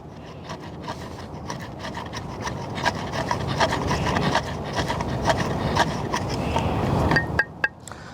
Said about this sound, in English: Now what I'm gonna do is, I'm gonna carve a little bit of that off.